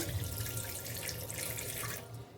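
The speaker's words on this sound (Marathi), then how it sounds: "त्याच्यामध्ये एक ग्लासभर पाणी टाकते" A glass of water pours steadily into a metal pressure cooker, a close, continuous splashing stream that tapers off near the end.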